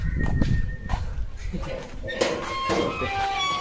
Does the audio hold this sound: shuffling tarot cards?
no